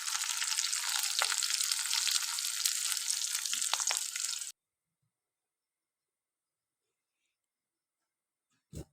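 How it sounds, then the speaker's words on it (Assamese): Garlic, onion, chilli and cumin seeds fry in hot oil with a loud, dense crackling sizzle that cuts off abruptly halfway, followed by silence and a brief knock at the end. "এয়া নহৰু, পিঁয়াজ, জলকীয়া গোটেইখিনি তেলতে দি লৈ মই এইখিনি ভাজি ল'ম"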